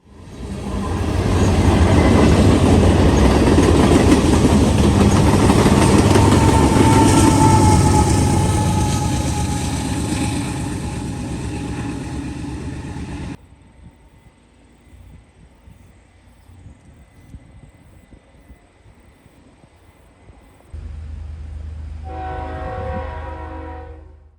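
A Norfolk Southern grain train rolls past with a Union Pacific GE locomotive at the rear, a loud, close rumble and rail roar that cuts off abruptly, followed by quiet and then a brief burst of horn-like tonal sound.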